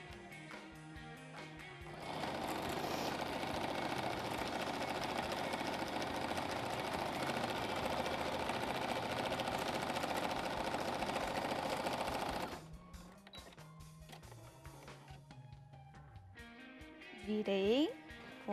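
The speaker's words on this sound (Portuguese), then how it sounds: "vou fazer mais uma costurinha" A sewing machine stitches fabric for the front panel and lining of a fabric planner cover, running steadily for about ten seconds before stopping, with quiet voices and handling noise around it.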